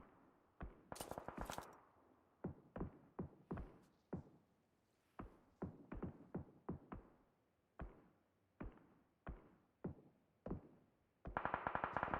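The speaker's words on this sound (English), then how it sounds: "I can hear some gunfire from the Team 5 and the ALS" Gunfire in a battle royale esports tournament match, distant and faint, with sharp single shots and short bursts spaced irregularly, the cracks getting louder and denser near the end, no voices.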